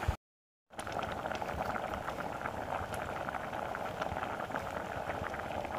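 A pot of curry with lemongrass comes to a boil, giving a steady close bubbling and popping after a brief silent gap at the start.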